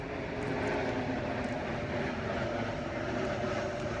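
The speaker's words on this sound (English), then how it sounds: "here comes another plane" A fixed-wing airplane passes overhead near Reagan Airport, a steady, loud, broadband engine roar that holds evenly throughout with no talking.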